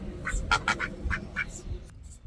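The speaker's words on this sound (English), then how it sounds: "Look at the mallard." A mallard duck gives a run of short nasal quacks at close range, with soft background noise around them.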